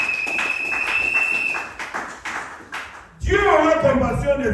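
A congregation at a Sunday church service claps briefly in a scattered, light patter, after which a voice begins talking over the room.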